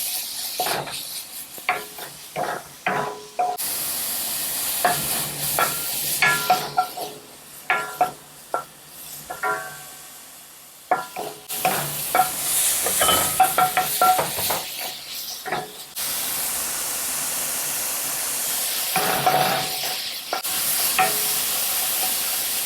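Beef for a beef-and-cucumber stir-fry crackles loudly in a hot frying pan, with repeated scraping and clattering of a utensil as it is tossed, the sizzle swelling and easing in bursts.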